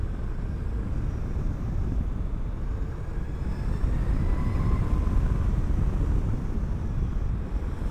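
Zero FXS electric motorcycle being ridden, giving a steady broadband rush of wind and road noise with a faint high whine rising and falling, continuous and close for the whole stretch.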